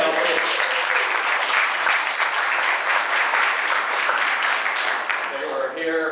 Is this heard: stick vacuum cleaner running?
no